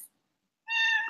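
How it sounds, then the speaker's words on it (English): A house cat meows once, a short clear call close by, following a tiny click and near silence. "my cat just walked in the room and talked to me"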